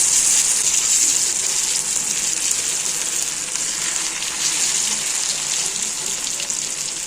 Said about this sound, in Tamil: எண்ணெய் காஞ்சோடனே மீன் போட்டுற வேண்டியது. தவாவில் வறுத்துடலாம்.